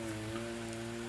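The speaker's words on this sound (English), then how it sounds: "Oh, the rain." Rain falling on an African farm during maize planting season, with cows nearby: a steady, soft hiss of rain throughout, with low steady hum tones underneath.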